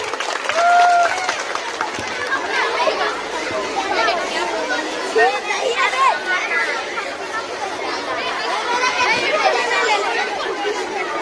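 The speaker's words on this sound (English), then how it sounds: "Give a big round of applause, everyone." An audience at a school Teacher's Day celebration at St. Anne's applauds kindergarten teachers, with a sustained wash of clapping mixed with loud crowd chatter and cheering voices throughout.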